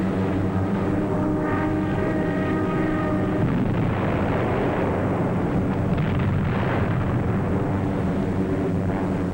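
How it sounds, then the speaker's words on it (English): Continuous loud rumbling anti-aircraft and artillery gunfire and distant booms off the French coast on D-Day blend with a droning aircraft engine, forming a dense, unbroken roar. "Approaching the French coast, the ack-ack and gunfire seemed harmless and far away"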